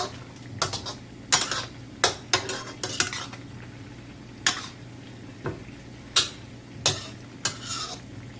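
Adobo chicken wings and potatoes stirred in a pot, with a spoon scraping and clinking against the metal in about a dozen separate strokes over a low, steady sizzle.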